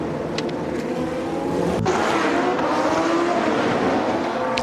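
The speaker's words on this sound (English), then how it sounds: "the revised GP3 cars, heading round on formation for their first race of Sunday morning" GP3 race cars on their formation lap at the Barcelona circuit in Montmeló early on a Sunday morning, engines droning loudly and steadily as a pack, with layered revving tones and a brief sharp transient midway.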